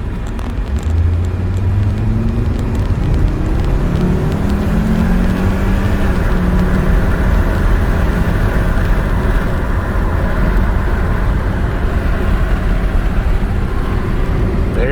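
A 2005 Volvo S60 2.5T five-cylinder turbo pulls hard under acceleration, its steady engine drone and rising tone heard from inside the cabin, continuous and fairly loud with road noise beneath.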